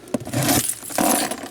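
Keys jangle close by in a few quick metallic shakes and rattles, bright clinking bursts with short pauses between them.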